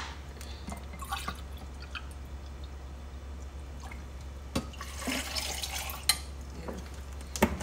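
Water trickling and splashing as it is poured into a blend of beetroot, carrot and apple juice, faint and close over a steady low hum, with a few louder splashes and drips and no talking.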